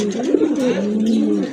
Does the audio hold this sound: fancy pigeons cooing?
yes